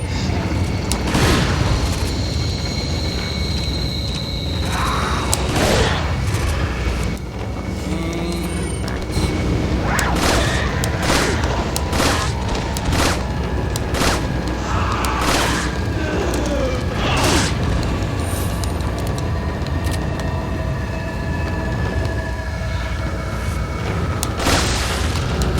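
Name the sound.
shotgun firing in video game Resident Evil 4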